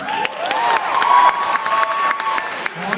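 Audience applause at a hypnotist show in a high school, a steady wash of clapping with some crowd noise and a few brighter tones running through it over about three seconds.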